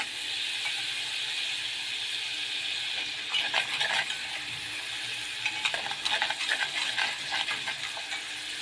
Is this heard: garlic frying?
yes